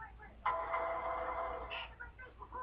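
A phone ringtone plays the Law and Order theme, a faint, brief electronic melody with a rising swell that sounds muffled in a quiet room.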